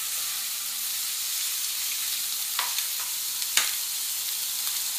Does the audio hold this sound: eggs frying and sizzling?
yes